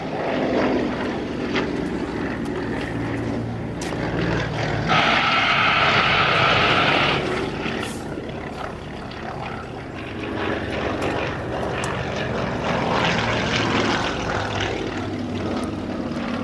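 Yak-50 propeller aerobatic aircraft engines drone loudly and continuously overhead at the Flying Legends 2013 air show, the pitch rising and swelling as planes pass, with a brief higher roar in the middle.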